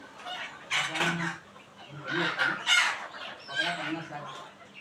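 Chickens cluck close by in several overlapping bursts on a poultry farm of about 400 desi hens in Konkan, a busy chorus of poultry calls rising and falling.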